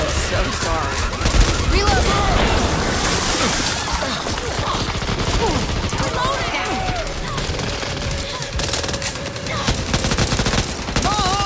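Rapid automatic gunfire rattles almost without a break in the zombie shooter Back 4 Blood. Loud, dense bursts fill the scene while voices talk over the shooting.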